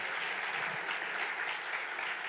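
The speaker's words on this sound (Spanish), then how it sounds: "Una ofrenda de palmas a nuestro Señor Jesucristo" A church congregation applauds in worship, a soft, even patter of many hands heard at a distance, steady and fairly faint throughout.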